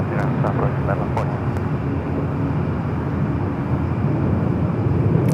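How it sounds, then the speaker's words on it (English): An Airbus A330-200 heavy jet on arrival at LAX produces a steady, loud, broad engine roar that holds and swells slightly, with talking over it and faint radio-style voices. "our next arrival is a heavy, the A330-200, coming in from Honolulu."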